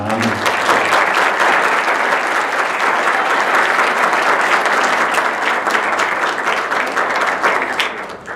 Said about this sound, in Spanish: no sin antes solicitarles un aplauso